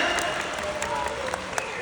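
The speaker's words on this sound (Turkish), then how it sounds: "O zaman alkışlar Haydar'a geliyor" An audience at a mosque puppet show, featuring the crow puppet Haydar, gives a brief round of steady applause, with some background talk faintly beneath the clapping.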